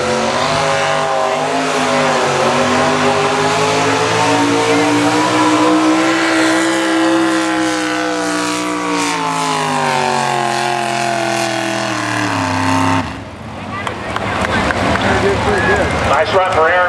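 Chevrolet El Camino on a truck pull run at an outdoor pulling event, its engine screaming loud and sustained with rising and shifting pitch for about thirteen seconds before cutting off, with crowd and announcer noise in the background.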